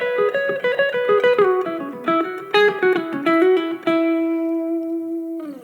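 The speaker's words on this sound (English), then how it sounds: "So let's go ahead and start off with lick number 1. Sounds like this." Electric guitar playing a blues lick, with quick picked notes and bends running into a sustained final note that rings out and decays, close and clear with no talking.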